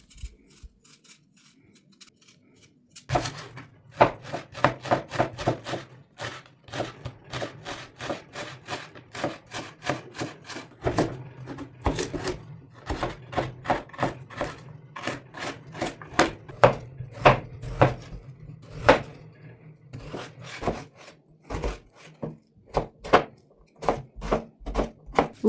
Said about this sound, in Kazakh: картошка, сәбіз, пияз барлығын ашып алып, жуып, тазалап, кубиктап,